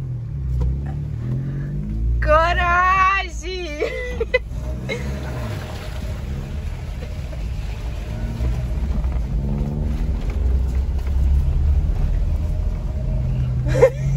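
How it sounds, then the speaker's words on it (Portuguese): A Kia Sportage SUV drives through deep water on a trail, its engine rumbling steadily under a continuous wash of churning water, with a brief shouted voice early on. "Passando dentro da água!"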